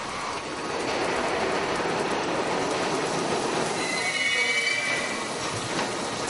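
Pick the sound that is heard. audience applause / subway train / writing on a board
subway train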